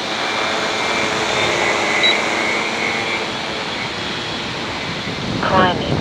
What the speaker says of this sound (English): I can hear the wind noise in the trees behind me